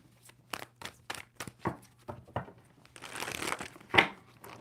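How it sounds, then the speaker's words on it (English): A tarot card deck is shuffled by hand at close range, a series of crisp papery riffles and slaps in uneven bursts, ending in a longer flurry of crinkling card noise. "2 more shuffles for Aquarius"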